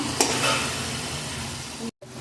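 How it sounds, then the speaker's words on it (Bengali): Rohu fish head is stir-fried in a spice masala, giving a steady close sizzle with soft scraping stirs and a brief dropout near the end; no talking. "মাছের মাথাটা মশলা মধ্যে খুব ভালো করে কষিয়ে নিয়েছি"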